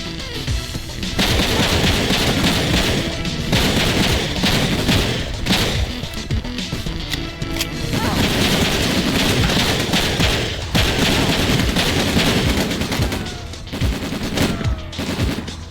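Rapid gunfire in a video game, loud sustained bursts of automatic shots with booms and impacts layered over one another, dense and continuous with brief dips.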